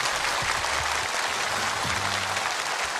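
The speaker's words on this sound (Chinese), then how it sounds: "让我们掌声有请出你的对手季宝杰" Steady, dense applause from a studio audience at a televised Chinese variety show, filling the hall at an even level for the full stretch with no voices on top.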